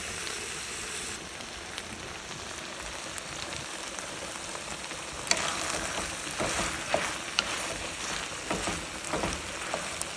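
Okra and butter beans frying in a pan, Jamaican style: a soft, steady crackling sizzle that grows busier halfway through, with scattered sharp pops over the hiss.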